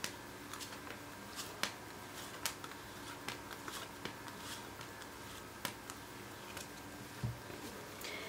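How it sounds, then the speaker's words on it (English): Soft, irregular ticks and light card flicks patter quietly at close range, a steady scattering of small clicks as a tarot deck is shuffled. "I'll do one more shuffle"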